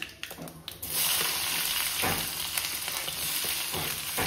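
Chopped onion sizzles steadily in hot oil with mustard seeds, cumin and curry leaves, the crackle starting after a quieter opening and then holding loud and dense throughout.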